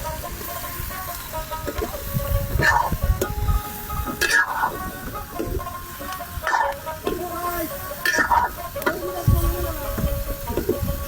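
Onion, chili and vegetables fry in a pan at a fishermen's cooking spot, with a continuous close sizzle and repeated scraping stir strokes. Voices are faintly heard at times.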